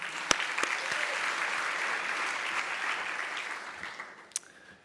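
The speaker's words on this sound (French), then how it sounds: "On peut l'applaudir." Audience applause for a doctoral candidate at a Ma thèse en 180 secondes science-talk event fills the hall steadily, with a few sharper nearby claps standing out before it starts to thin near the end.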